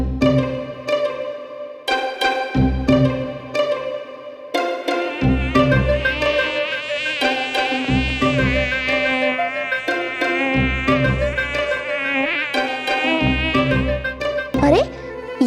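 A mosquito buzzes in the Baalveer TV series, a loud, close, whining drone that wavers in pitch and cuts in and out in repeated bursts, with a final rising whine.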